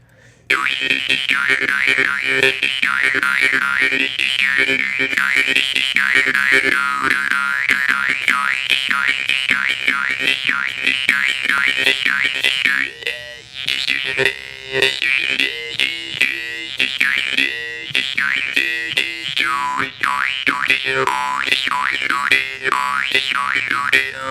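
Jaw harp played live late at night, a continuous twangy drone with rapidly shifting, wah-like overtones shaped by tongue slaps and glottal pulses, loud and close, briefly thinning around the middle before resuming steadily.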